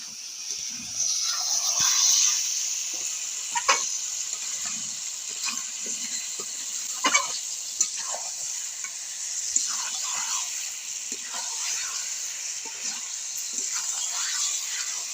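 Chicken and potatoes cooking in a pan after water is added for chicken kosha, a steady soft hiss of sizzling broken by scattered stirring clinks and scrapes, close and moderately quiet.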